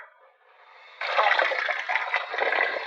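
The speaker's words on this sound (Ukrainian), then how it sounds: "Набрала водички, хай тече." Water pours into a container, starting as a quiet, low trickle and then, about a second in, turning into a loud, steady splashing rush that runs to the end. No one speaks.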